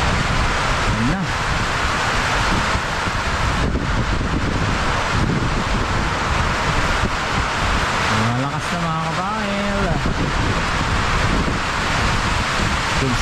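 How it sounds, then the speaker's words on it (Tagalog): Strong storm wind during Typhoon Julian roars steadily around a hut and farm, broadband and loud throughout, with people talking over it in Filipino. "Dito na yung hangin, dito na yung hangin kanina umaga dito."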